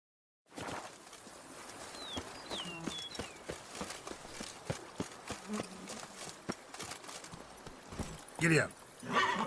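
Horse hooves galloping steadily in The Witcher 3 video game, a rapid clip-clop rhythm running throughout amid game ambience, with a brief louder burst of sound near the end.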